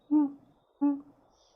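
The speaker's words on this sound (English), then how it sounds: "you look up and you see a golden feathered owl." Two soft, low owl hoots, evenly spaced and close, played as a sound effect during a tabletop role-playing game, with quiet between them and no speech.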